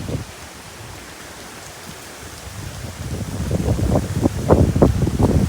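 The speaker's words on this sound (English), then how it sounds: "really windy." Strong wind and rain from Hurricane Ian rush past in a broad, hissing roar, swelling louder and gustier over the final seconds with heavy buffeting against the microphone.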